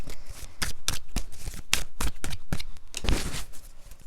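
Oracle cards being shuffled and drawn by hand, a rapid series of crisp riffling and slapping card sounds, close and fairly loud, with no talking.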